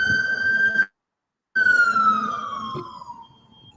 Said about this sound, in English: Got an ambulance.